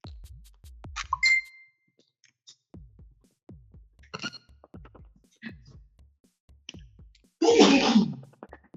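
A loud, close sneeze bursts out near the end, following scattered clicks, taps and a short ringing ding earlier on.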